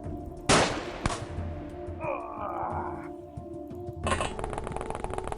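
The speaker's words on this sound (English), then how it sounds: "Behold, the deck-clearing minigun." Minigun fire in the XCOM game: a sharp burst of gunfire with ringing metallic clinks, then a dense, rapid stream of shots near the end, loud and close over a steady background hum.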